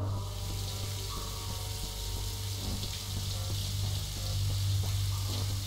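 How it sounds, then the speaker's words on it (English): Steady hiss of running water from an automatic shower in the game Castlevania: Lords of Shadow 2, a continuous spray over a low hum, fairly quiet with no speech. "Automatic shower beginning in"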